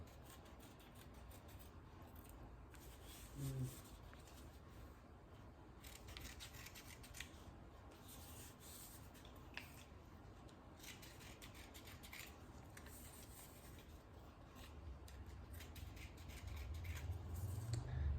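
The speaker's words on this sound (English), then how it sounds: "I like to go ahead and actually cut some rounded edges so that it sticks better to the skin" Scissors cutting rounded edges on strips of kinesiology tape for shoulder taping: soft, steady snipping and rubbing close by, continuous and quiet, with no speech.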